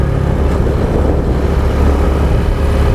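A Honda XRM 125 dual sport motorcycle engine runs steadily while riding, a loud continuous low rumble mixed with wind noise and no talk.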